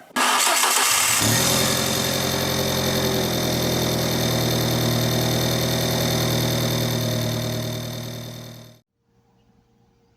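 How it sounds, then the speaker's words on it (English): An Alfa Romeo 4C engine cranks and fires up, then roars loud and steady at high idle for several seconds before cutting off abruptly. "I'm going to go ahead and start up the car"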